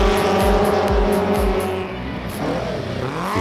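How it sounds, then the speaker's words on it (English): Tuned race cars with wings on the roof tear around a slippery track at night, engines revving loud and close with repeated pass-bys and rising whines, a steady roar carrying throughout. "we witnessed the race around the slippery track"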